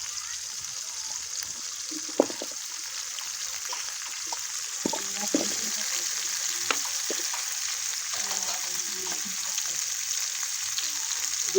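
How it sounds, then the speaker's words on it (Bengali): Onions and potatoes frying in oil, a steady close sizzle running throughout with scattered clicks and scrapes of stirring. "তেলের মধ্যে পেঁয়াজগুলো দেবো। সাথে আমি আলুটাও দিয়ে দেবো।"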